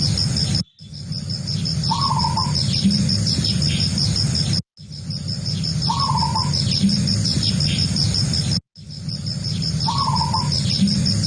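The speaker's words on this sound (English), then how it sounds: "So that was the sound of the zebra dove" Zebra dove calls in the Philippines, a short soft trilling coo repeated three times at even intervals over a constant shrill drone of crickets and insects.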